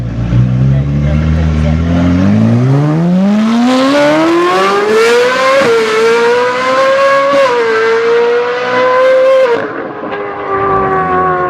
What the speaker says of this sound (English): 458 Spider with that same IPE exhaust that just sounds, I'll put in a clip here